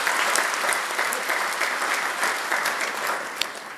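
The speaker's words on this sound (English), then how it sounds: "Let's clap for CPA Rose Mwaura." A packed conference audience at an accountants' annual general meeting applauds for an honoree, with loud, even clapping from many hands that holds steady for nearly four seconds.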